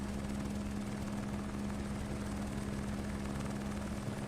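A continuous H125 helicopter rotor and engine drone in Microsoft Flight Simulator, over Kinsarvik, Norway, steady and unchanging throughout, with a low hum and no voices.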